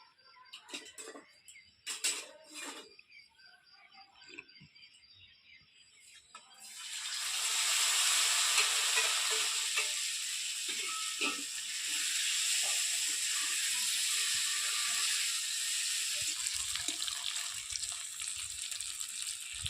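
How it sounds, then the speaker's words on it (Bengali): A few clinks and taps give way to a loud, steady sizzle of paneer pieces frying in hot oil that continues to the end. "পনির ভাজা হয়ে গেছে বা তুলে নেবো"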